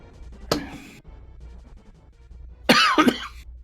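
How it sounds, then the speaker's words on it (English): A man coughs once, then after a quiet pause lets out a harsher double cough with a throat-clearing rasp, close up in a quiet room. "I stopped taking my acid medication. That's why I'm coughing."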